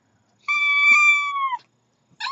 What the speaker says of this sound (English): I want to see what's wrong with my kitty